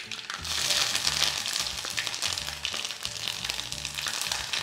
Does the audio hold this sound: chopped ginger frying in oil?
yes